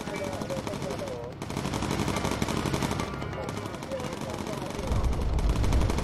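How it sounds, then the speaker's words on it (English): Continuous rattling machine-gun fire from a bomber's guns in the game Bomber Crew, a dense steady stream of rapid shots under engine drone, with a voice talking over part of it. "We're going to get a focus fire with incendiary ammunition from Milneb."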